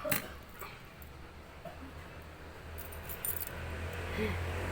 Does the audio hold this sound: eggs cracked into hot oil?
no